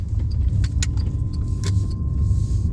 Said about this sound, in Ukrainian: Зараз їду, буду їхати по набережній перемоги.